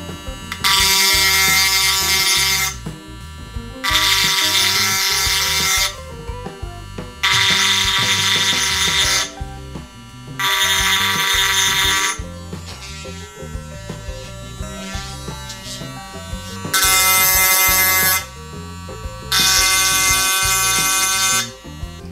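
A power tool grinds grooves into a fishing hook in a series of loud, high buzzing bursts, six or seven of them, each a few seconds long, with short quieter gaps between.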